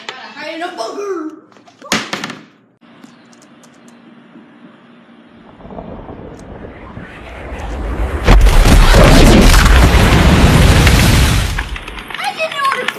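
Missile explosions in a video game: after an early sharp crack, a low rumble builds into a loud, heavy blast that roars for several seconds before fading, with a voice heard at the very start.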